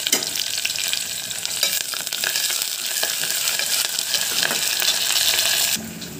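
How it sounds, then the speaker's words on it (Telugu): Onions and curry leaves frying in hot oil give a steady, bright sizzle that stays up close and continuous throughout, with faint stirring scrapes, then drop slightly in level near the end. "ఆనియన్స్ కొద్దిగా గోల్డెన్ కలర్ వచ్చే వరకు ఫ్రై అవ్వనివ్వండి"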